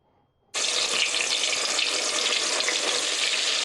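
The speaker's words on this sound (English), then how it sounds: "The sound of fish sizzling in hot oil." Fish frying in hot oil in Ghana, a sudden loud burst of dense hissing sizzle that starts after a quiet moment and holds steady and close to the end.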